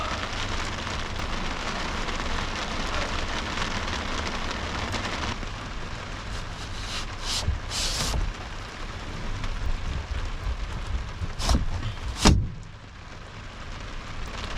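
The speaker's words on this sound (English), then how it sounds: "It is pouring rain outside." Heavy rain pours down in a dense, continuous roar, with a few sharper splashes or passing swishes toward the end.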